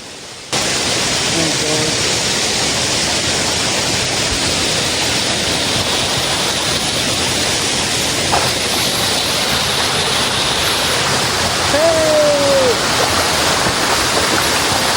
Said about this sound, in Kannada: ಫೈನಲಿ ಜಾರಿ ಫಾಲ್ಸಿಗೆ ಬಂದಾಯಿತು